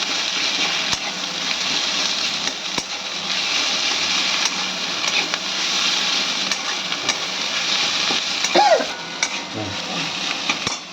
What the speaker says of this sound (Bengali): এই ম্যাশ করা মাছটা দিয়ে দিচ্ছি। দিয়ে এটাকে আবার একটু নাড়াচাড়া করবো।